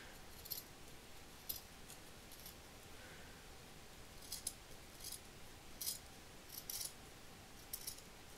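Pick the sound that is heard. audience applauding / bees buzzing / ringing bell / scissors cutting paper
scissors cutting paper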